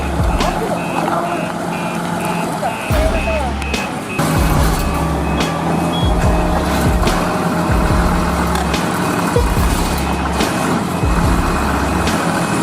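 A black truck reverses with a steady run of backup beeps, repeated evenly throughout over a loud engine rumble, with people talking nearby.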